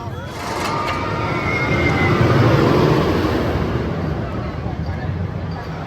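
A Steel Vengeance roller coaster at Cedar Point rushes past at night during Halloweekends, a broad rumbling roar that swells to a peak near the middle and then fades, with faint crowd noise beneath.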